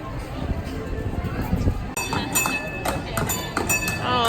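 Horse hooves clip-clop at Walt Disney World's Magic Kingdom, mixed into a busy crowd with voices and faint metallic clinks throughout.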